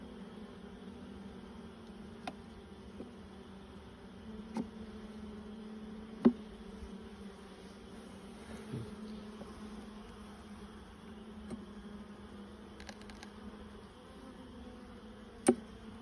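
Steady low buzzing of many bees around a hive, continuous and close, with a few soft clicks and taps.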